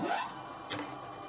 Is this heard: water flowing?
no